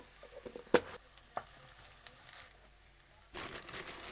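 Ginger garlic paste and spices such as turmeric frying in oil for a Kerala fish curry with kudampuli, quiet crackle and sizzle with a few sharp clicks and stirring scrapes, then the hiss swells near the end.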